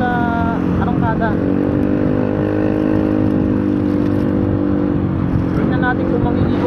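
A motorcycle accelerates with a steady, loud engine whine that climbs and dips slightly, while someone talks over it throughout.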